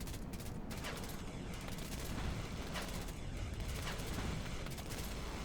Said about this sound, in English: His artillery are now in the move.